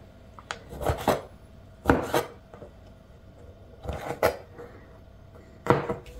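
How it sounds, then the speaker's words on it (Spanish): Pickled jalapeño chiles being chopped on a board for a cold pasta salad with ham, four separate bursts of several quick knife taps each, close and moderately loud with quiet pauses between. "Por último vamos a partir nuestros chiles jalapeños curtidos."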